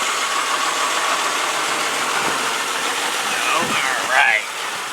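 The 3.1 liter V6 of a 1995 Oldsmobile Cutlass Ciera runs at a steady idle, a close continuous engine hum with hiss, and a short brighter whine near the end.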